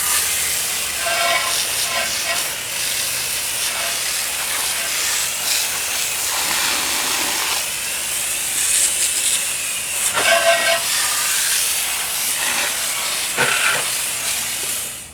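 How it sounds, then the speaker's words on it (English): A steady water spray rinses cleaning residue off a car wheel, a loud, continuous hiss that persists throughout with slight surges in intensity. "what we're gonna do now is just rinse off the residue"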